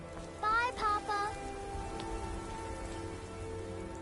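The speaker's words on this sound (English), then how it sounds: "Oh, it's raining, isn't it?" Steady rain in the video game Skyrim Special Edition patters and hisses continuously in the background, with a few short tonal chirps near the start standing out over the wash of falling rain.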